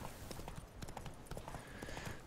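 Horse hooves clatter at a gallop in The Witcher 3, a quick steady clip-clop rhythm buried in dense game sound and background noise, fairly faint, with no speech.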